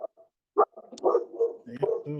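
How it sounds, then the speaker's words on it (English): A dog reacting to a door gives a few short, sharp barks and yips. Brief bursts come early, then the barking mixes with people talking over it. "My dog hears a door and like automatically freaks out."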